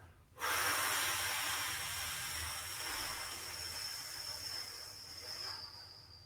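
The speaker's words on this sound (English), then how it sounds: "we're going to do a very long and emphasized out breath" A long, emphasized out-breath during a shiatsu breathing exercise, a close, steady airy hiss that starts abruptly and slowly fades over several seconds.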